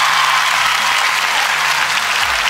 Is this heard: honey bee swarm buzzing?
no